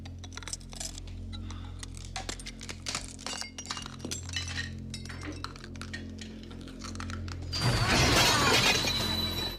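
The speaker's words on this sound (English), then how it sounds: "the wife of the coworker just starts chewing on the glass" In a 1988 horror film scene, a woman chews on glass: scattered sharp clinks and crunches over a low droning score, then a loud burst of shattering, crackling glass near the end.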